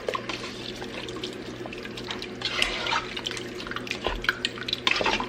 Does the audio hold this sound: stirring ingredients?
yes